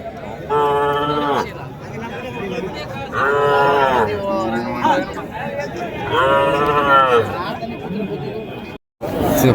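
Cattle moo repeatedly at a native cattle market in Madrapalli, including a bull calf, three long loud lowing calls close by, with crowd chatter running underneath.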